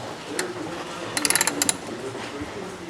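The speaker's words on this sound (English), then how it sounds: "I'm going to reverse my ratchet." A ratchet wrench clicks in a quick burst of about a dozen sharp ticks while loosening a bolt near a serpentine belt tensioner, close and fairly loud, with no voices.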